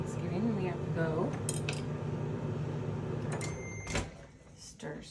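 A spoon clinks and scrapes against a casserole dish while broccoli casserole is stirred, several sharp metallic taps over a low background hum, with a person talking throughout.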